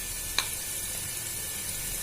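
Ginger, garlic and onion frying in oil in a pan over a medium gas flame, giving a steady, soft sizzle with one brief click near the start.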